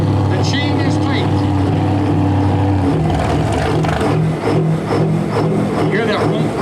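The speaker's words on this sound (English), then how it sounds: "You hear that rump, rump, rump? That's an overfueled Detroit diesel." An overfueled Detroit diesel truck engine labours loudly under load at an agricultural fair truck pull, a deep throbbing drone with a pulsing beat, under a commentator's voice.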